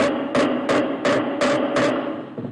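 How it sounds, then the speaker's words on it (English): Six even, solid taps of a rubber mallet on a wooden plug, evenly spaced and close, with no talking. "Push the plug in by hand and tap it in with a rubber mallet."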